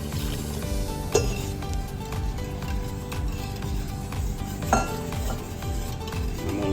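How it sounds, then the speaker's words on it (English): Cheesy chicken spaghetti sauce thickens and simmers in a pan with a soft, steady sizzle, broken by repeated stirring scrapes and a couple of sharper utensil clinks against the pan. "I'm gonna let that simmer a little bit, let it thicken up a little bit"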